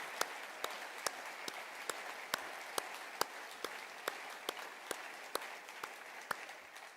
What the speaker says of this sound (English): One more round of applause for all the projects.